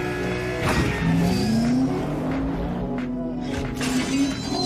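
A BMW race car braking late into a corner gives a loud, close engine drone whose pitch dips and then holds steady, with a brief tire squeal layered over it, with no voices.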